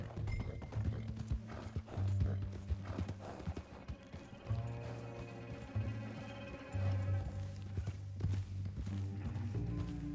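A horse in Red Dead Redemption 2, carrying a tied-up rider, clip-clops steadily at close range. Its hoof beats run under low droning game music, and a brief whinny is possible.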